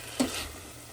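Onion, tomato and ginger sautéing in a pan, with a soft steady sizzle and one brief clink near the start.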